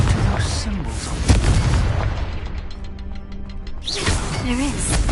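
Explosive spell blasts in Hogwarts Legacy, a loud boom with crackling bursts followed by a rumbling tail and scattered pops, with game voices and sounds layered over the detonations.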